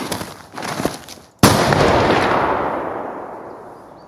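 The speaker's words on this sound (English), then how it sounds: "Do random shots at him from there." A single loud gunshot in the video game Escape From Tarkov, a sharp crack followed by a long rolling echo that fades out over several seconds, after a few fainter distant shots at the start.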